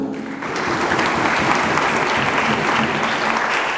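A church congregation breaks into applause, a dense, steady roar of many hands clapping together that swells quickly and holds at a loud, even level.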